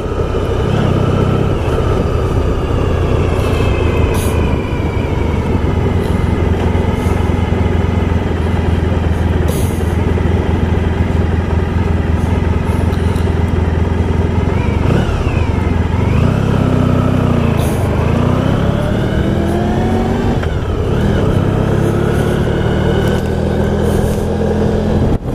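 A 1994 Honda ST1100 motorcycle engine running while riding, loud and close, with a steady drone, a couple of rising and falling revs partway through, and passing traffic around it.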